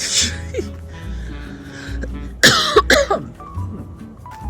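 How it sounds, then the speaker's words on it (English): Several harsh coughs and throat-clearing sounds from a nearby person, in a brief cluster, with faint background noise between them. "couldn't stop coughing"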